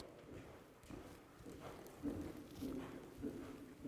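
A horse trots steadily at a riding clinic, its hoofbeats coming in a faint, even rhythm against a quiet, roomy background.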